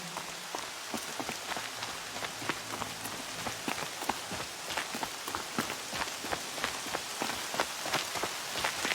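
Rain falls steadily in a video game scene, a dense patter of drops striking surfaces with sharp crisp ticks throughout, continuous and fairly close with no voices.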